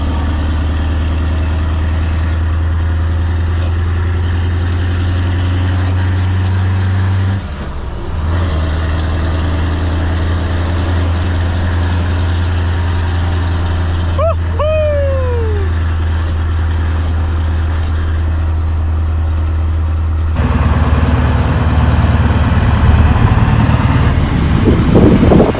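Big V8 truck engine idling with a deep steady rumble, then a brief rev that rises and falls sharply, and a heavier, louder engine drone near the end; no voices.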